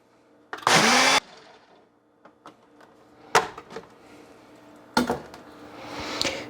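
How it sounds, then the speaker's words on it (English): A blender blending a protein shake roars loudly for a brief half-second pulse, then stops, followed by scattered clicks and knocks of handling the lid and jar. "Turn my blender on."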